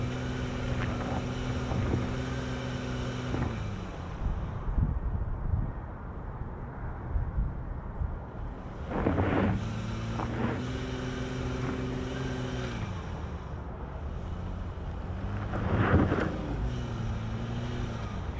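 A 2020 Cadillac XT6 SUV climbs an off-road hill in off-road mode, its engine droning and straining steadily while revs rise and fall, with wind buffeting the microphone throughout and no talking.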